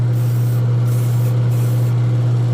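Spray paint hisses loudly in short close bursts onto a Tamiya CC-02 RC car body, with three or four spritzes over a strong steady low hum.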